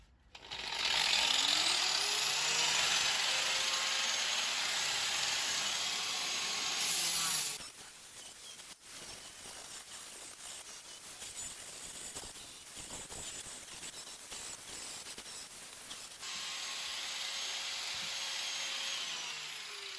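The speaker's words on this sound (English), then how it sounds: "just using a flapper disc on here. It's just sandpaper on an angle grinder disc" An angle grinder with a flap sanding disc works sheet metal on a car wheel arch repair, a loud, close, high grinding whine that drops away midway into softer scraping and clatter, then comes back near the end.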